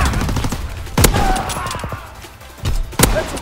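Artillery battery firing in a WWII video game, heard as a few sharp, loud gunfire-like blasts spaced across a short stretch of battle noise, with the reports standing out above a busy background.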